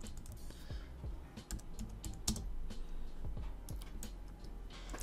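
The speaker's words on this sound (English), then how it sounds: "I can type in example text." Text typed on a computer keyboard while working in AutoCAD, a quick uneven run of close, light key clicks with no talking.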